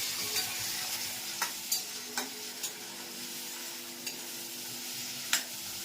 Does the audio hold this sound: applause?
no